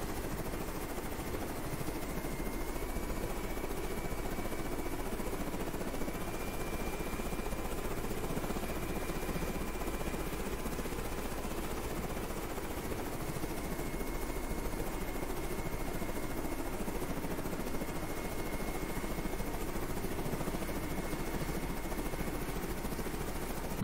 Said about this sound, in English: Actually gonna send the chopper back.